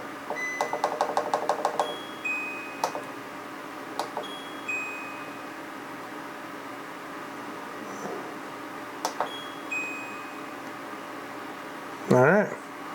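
Brewing system controller timer being set, a rapid run of short electronic beeps followed by sparse single beeps over a steady background hum, ending in a brief clatter; no clear talk.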